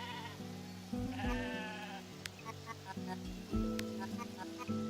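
Sheep bleat repeatedly in the farm game Discounty, several wavering cries spread across the moment, fairly soft against quiet background music, with a voice speaking between them.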